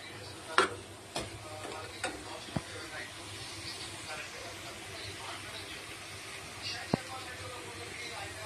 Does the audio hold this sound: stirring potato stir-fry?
yes